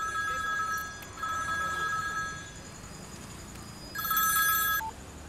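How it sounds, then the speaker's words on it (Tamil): A mobile phone rings with a repeating electronic tone in two clear bursts separated by a pause, set against a quiet room with faint background hiss; no one speaks. "பிரேம் எடுக்கலன்னா அநேகமாக தனா எனக்கு தான் ஃபோன் பண்ணுவான்"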